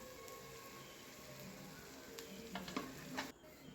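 Chicken pieces sizzle steadily in a pan of softened onions for a nāṭan chicken curry, with a few stirring scrapes and spatters toward the end, fairly quiet and close, with no voices.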